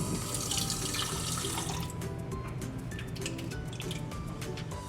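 Water trickles and splashes from a tap into an empty soda can, a bright running stream at first that thins into lighter drips and splashes, close and fairly quiet.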